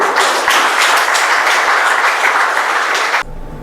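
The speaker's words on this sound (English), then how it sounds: "Can you give them a round of applause?" Dense, even applause from an audience at a Berbice Volleyball Association awards ceremony honouring under-19 volleyball players, a loud wash of clapping for about three seconds before it cuts off abruptly.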